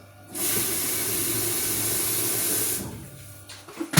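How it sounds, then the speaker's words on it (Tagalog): Very hot water pours steadily into a cup to make green tea, a close, even hissing rush lasting a few seconds before it stops, followed by small clinks. "Lagyan ko ng tubig."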